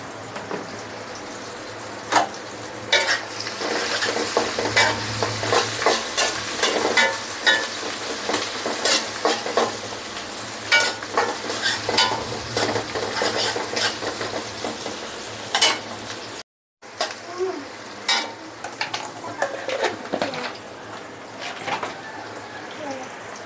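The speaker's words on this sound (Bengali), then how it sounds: "ছোলা, পেঁয়াজ কিছুক্ষণ তেলে ভেজে নিব" Spices such as bay leaves, with chickpeas and onion, frying and being stirred in hot oil for a beef fry dish, a steady loud sizzle with repeated scraping stir strokes and a brief cut-out near the end.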